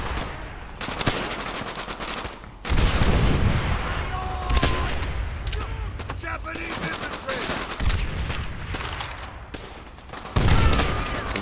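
A boat explodes right beside the player in Call of Duty: World at War, heavy blasts booming amid continuous machine-gun fire and rifle shots on a chaotic battlefield, with a voice talking over the din.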